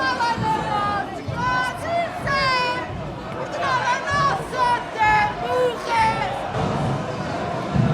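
A large crowd of tourists and locals at a street protest fills the space with dense, continuous chatter and overlapping voices, loud and close all around.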